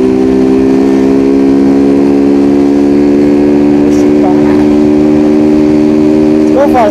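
A Honda Titan 150 motorcycle engine runs steadily at night on a city avenue, a loud, near, continuous engine drone with harmonics that rises in pitch toward the end as it accelerates; voices are faintly audible in the background.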